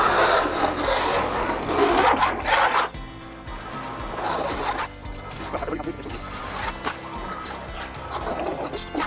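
A Stanley 45 combination plane shaves wood in loud, raspy strokes, with a dense burst over the first few seconds and then further uneven, scraping passes.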